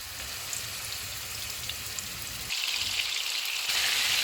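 Kebabs drop into hot oil in a frying pan over a medium flame, setting off a steady crackling sizzle that swells sharply louder midway and again near the end, with no voices.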